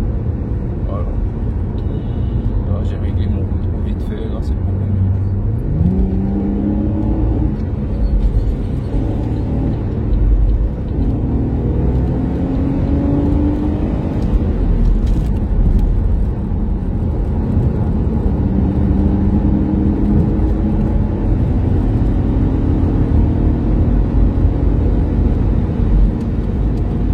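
A Chevrolet Camaro RS engine runs and revs in a steady, loud rumble, the pitch rising and falling in several sweeps, with a person talking over it throughout.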